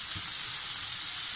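Ground meat sautés in a pan until brown, giving off a continuous bright sizzle and hiss, close and loud, with no voices over it.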